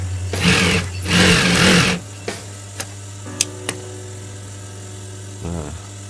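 A sewing machine stitches a cuff onto a men's long-sleeve shirt. It runs in two loud close bursts, then a low motor hum continues with a few sharp clicks and a short final whir.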